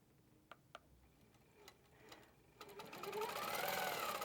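A longarm quilting machine, HQ Pro-Stitcher Classic, stitches a vertical line on a quilt: faint scattered clicks at first, then a rising, steady mechanical whirring hum as the machine runs, quiet and close.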